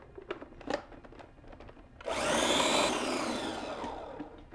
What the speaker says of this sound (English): cutting the tomatoes into manageable pieces for our blender